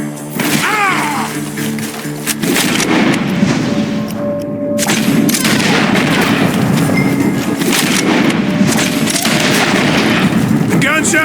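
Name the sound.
gunshots from Red Dead Redemption II video game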